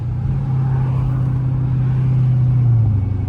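Steady low engine drone from a twin turbo 5.7 Dodge Charger, held at light throttle with a gentle rise near the end, close and continuous with no talk.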